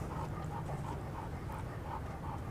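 Old dog panting in a steady quick rhythm, faint and close, with a low background hum and no talking.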